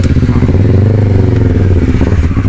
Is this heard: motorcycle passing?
yes